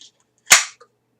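Mosin Nagant rifle magazine springs released and snapping shut, a single sharp metallic snap followed by a faint small click, close and isolated.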